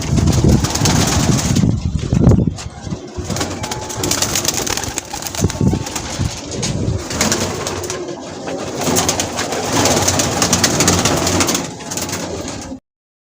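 Pigeons coo steadily in a Pakistani pigeon loft, their throaty calls layered over a dense, constant rush of wind and outdoor noise, with a louder burst near the start.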